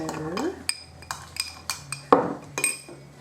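Seasoned chips being tossed and mixed in a bowl for freezing, with a series of sharp clinks and clatters of utensil against dish at an irregular pace, fairly close.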